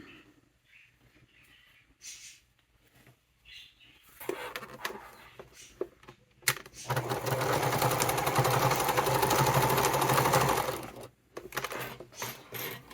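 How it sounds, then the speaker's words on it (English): A sewing machine runs in bursts as it stitches back and forth over a seam on a fabric wallet, a fast mechanical whir lasting several seconds after softer handling sounds. "I'm still sewing it several times in here at the raw edge just to help secure it"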